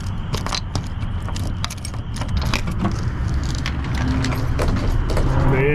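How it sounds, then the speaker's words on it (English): Keys jangle and rattle steadily while a truck topper door is unlocked in a parking lot, a close, continuous metallic clinking over low road and engine rumble. "Let me unlock this door here."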